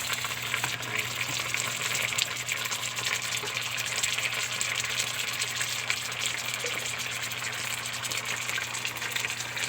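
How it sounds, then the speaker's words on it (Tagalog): Canned sardines sizzle in a frying pan with a steady, dense hiss that holds throughout, with no voices. "gisa-gisan muna natin"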